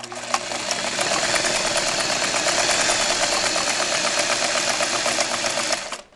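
A Singer 237 sewing machine runs a zigzag stitch, its needle mechanism whirring in a rapid, even mechanical rattle, close and loud, starting up and winding down at the end.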